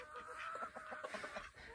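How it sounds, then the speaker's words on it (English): Backyard chickens pecking at apples, clucking in a quick run of soft, short calls, faint and fairly close, with no talking. "the chickens, I bet they're going to eat every single apple on there"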